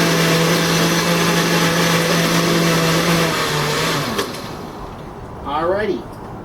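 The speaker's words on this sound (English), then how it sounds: "we'll put the lid on the blender, and we'll go ahead and put it on the mix" A blender mixing piña colada whirs loudly and steadily for about four seconds, its pitch gliding as it runs, then cuts off, leaving quieter sounds behind.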